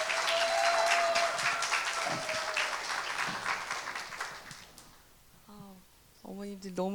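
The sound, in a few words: applause welcoming speakers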